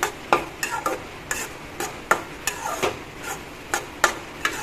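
A spoon stirs pumpkin and dry fish khar in a pot, scraping and clinking against the metal in a quick irregular rhythm of about a dozen close, sharp strokes over a soft simmer, with no talking.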